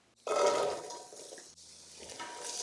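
Chopped onions, two and a half cups, drop into hot oil in a pan for minestrone soup, setting off a loud sudden sizzle that fades into steady, softer frying.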